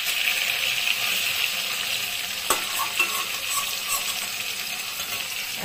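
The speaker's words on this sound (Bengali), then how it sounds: "এখন এই পিসটা ভাজা হোক" A piece of katla fish fries in hot oil with a steady, close sizzle and crackle, broken by a couple of sharp clinks from a utensil partway through.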